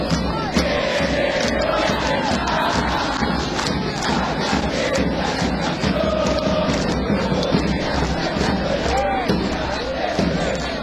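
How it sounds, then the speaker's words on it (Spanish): A football stadium crowd at a Defensa y Justicia versus Aldosivi match claps and cheers in a dense, continuous roar of rapid hand claps, loud and sustained, with a commentator talking over it. "Palmas y aplausos para el Bati Aranda"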